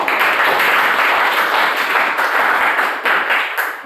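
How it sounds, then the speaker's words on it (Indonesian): Classroom applause for a presenter, a dense burst of many hands clapping at once, loud and steady throughout before thinning slightly at the end, with no talking over it. "beri aplaus untuk si Pak"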